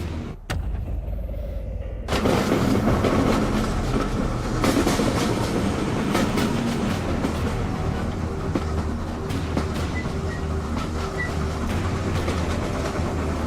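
A train rolls along steadily in the horror video game Code Violet, its broadband rumble and faint clatter growing louder after a quiet opening and holding loud and continuous throughout.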